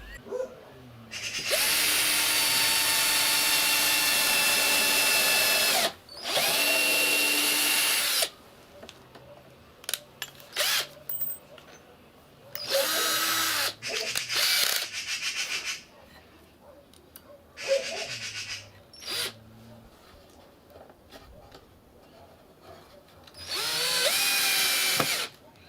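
Power drill driving screws into wood while building a combined drinker and feeder for chicken cages, in several loud whirring bursts of a few seconds each, separated by quieter gaps with faint handling noise.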